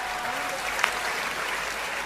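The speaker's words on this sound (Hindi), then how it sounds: "आपको मजा आया हो तो एक बार तालियां बजाइए।" Steady audience clapping at a Hindu devotional poetry stage event for Mahashivratri, a dense, even wash of applause at moderate level across the whole stretch.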